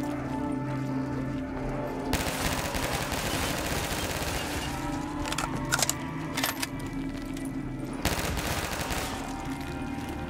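Rapid bursts of gunfire from a real gun in a prison escape video game, fired in long continuous strings broken by short pauses, loud and close.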